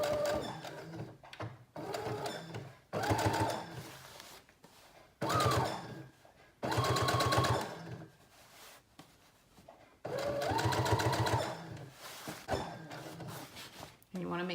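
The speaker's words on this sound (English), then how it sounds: "So I'm gonna go ahead and top stitch all 3 pieces." A sewing machine topstitches denim skirt pieces with white thread in short bursts of rapid stitching, close up, alternating with pauses and fabric handling.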